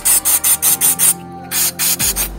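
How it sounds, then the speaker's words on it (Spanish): Short bursts of contact cleaner sprayed onto the camera connectors of a DJI Mavic 2 Pro or Zoom drone: about ten quick, loud hissing pulses close to the microphone, with a brief pause midway. "Echarle lo que es el limpiador de contactos en los pegues de acá."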